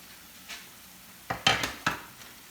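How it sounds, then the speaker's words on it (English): Chopped onions tipped from a dish into a frying pan over chicken, a few quick clattering knocks of a utensil and dish against the pan, close and fairly quiet, with a faint background hiss. "So I'm going to dump my onions on top."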